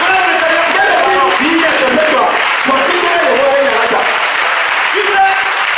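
A church congregation applauds together at a Sunday service, a dense, loud, sustained wash of clapping with voices calling out through it.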